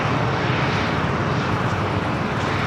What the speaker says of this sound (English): We got that JetBlue A321 is our first takeoff of the stream.